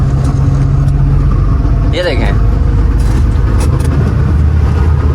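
A car is driven by a fifteen-year-old learner driver in Sindh, its engine and road rumble loud and constant throughout while someone talks over it.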